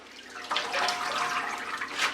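Red-stemmed dandelion greens swished and lifted in a sink full of water, a steady close sloshing and trickling wash with no voices.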